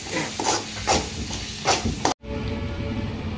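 Tomato gojju with sambar powder is stirred in a pan, with several close, scraping strokes over a light sizzle before the sound cuts off abruptly.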